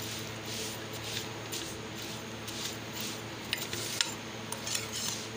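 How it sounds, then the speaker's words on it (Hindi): Vermicelli being stirred and roasted in a pan over low heat gives a steady soft rustle with light scraping and occasional clinks of the utensil against the pan, with no talking. "ये हल्की आंच पे इनकी बुनाई करनी है, तेज़ पे नहीं करनी"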